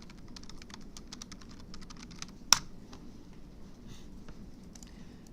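Quiet, rapid keystrokes on a computer keyboard as a file name is typed, with one sharper key clack partway through and no talking.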